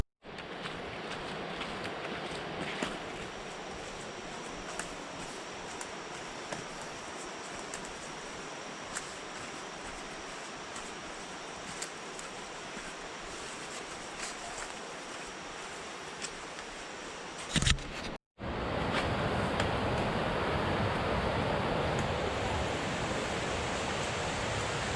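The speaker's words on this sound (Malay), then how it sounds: "Dah dengar air terjun." Kemensah waterfall roars as a steady broadband rush of falling water, heard from a distance at first, then a brief cut, then louder and nearer.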